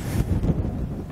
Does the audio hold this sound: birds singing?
no